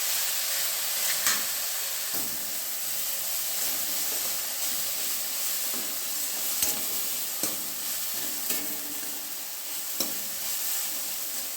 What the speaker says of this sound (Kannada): ಈಗ ಇದನ್ನು ಚೆನ್ನಾಗಿ ಎಣ್ಣೆಯಲ್ಲಿ ಬಾಡಿಸ್ಕೊಳ್ತಾ ಇದ್ದೇನೆ.